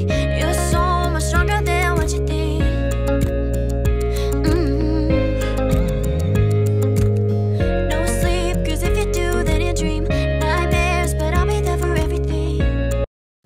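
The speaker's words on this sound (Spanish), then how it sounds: "La parte de la música suena así, que tampoco está mezclado." An unmixed instrumental backing track plays continuously and loud, its sustained chords and bass running steadily under rhythmic accents before cutting off abruptly at the end.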